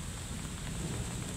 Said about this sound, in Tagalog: Umuulan kasi dito guys.